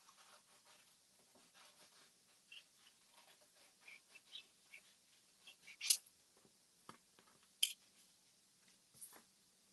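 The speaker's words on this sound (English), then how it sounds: "I'm just going to cut out with my scissors" Quiet, close snipping of scissors cutting paper during card making, a series of soft irregular clicks with a couple of sharper snips.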